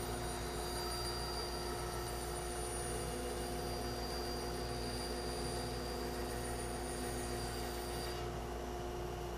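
A bandsaw cuts a curved pattern out of a wooden bookcase side panel, giving a steady, loud, droning machine whine with a constant hum that holds evenly throughout and shifts slightly near the end.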